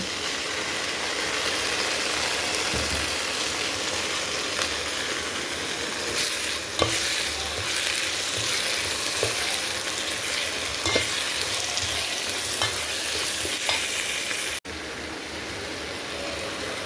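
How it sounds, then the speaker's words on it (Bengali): Ginger and garlic frying with onions in oil for beef curry, a continuous close sizzle with intermittent stirring clatter and a low hum in the background. "আদা রসুন ভাজা হয়ে গেছে, এখন সব মশলা দিয়ে দিব।"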